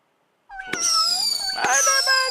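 A cat meows repeatedly and loudly up close, with drawn-out, wavering cries that start after a short silence and continue without a break.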